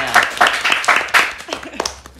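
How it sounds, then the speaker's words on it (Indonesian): Hands clap for the PSDM ministry at a student talk session, in uneven bursts mixed with voices, loud and close. "Oke, tepuk tangan buat Kementerian PSDM-nya."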